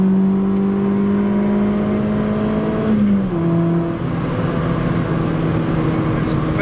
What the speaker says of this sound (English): You're gonna hit Vtec now.